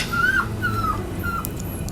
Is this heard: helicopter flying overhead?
no